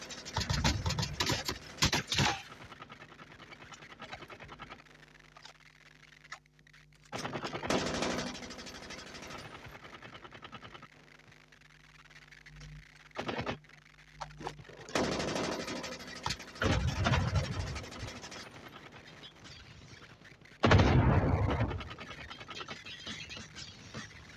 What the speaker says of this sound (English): Cluster strike incoming.